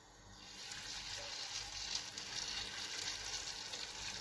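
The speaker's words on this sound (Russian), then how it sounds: "И так все, все котлеты пожарю." Chopped chicken cutlets with cheese and red pepper fry in a pan, giving a steady, close hiss of sizzling oil that holds evenly throughout with no talking.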